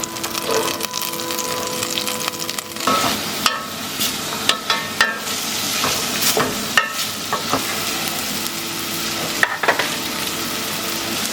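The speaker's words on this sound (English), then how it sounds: "we're just going to saute the onion until it's clear" Onion sautéing in butter in a saucepan, a steady close sizzle and crackle with occasional stirring scrapes and small pops throughout.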